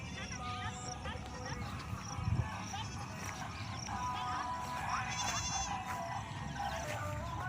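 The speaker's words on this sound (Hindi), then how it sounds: "ये बकरियों को चराते हुए ग्रामीण" Goats grazing with villagers nearby, giving a few bleats over a busy outdoor background with people talking and some hoof clatter.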